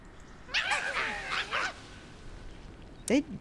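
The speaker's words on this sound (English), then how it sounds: "They sound like yappy dogs." Yappy, dog-like creature cries from the video game Reverse: 1999, a burst of quick yips and whines near the start followed by one short, sharp yelp near the end.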